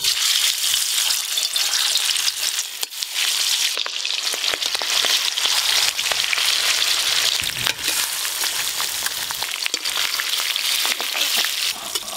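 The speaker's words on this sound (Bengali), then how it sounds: "মাছ ভাজার জন্য কড়াতে প্রথমে তেল খুব ভালো করে গরম করে নিয়েছি, মাছগুলো ভেজে নেব।" Pangas fish pieces fry in very hot oil in a kadai, with a loud, steady, crackling sizzle that runs unbroken throughout.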